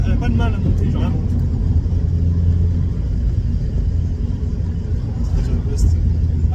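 A Mazda Miata engine revving up while driving, a loud continuous rumble from inside the car with a steady low drone; voices talk over it.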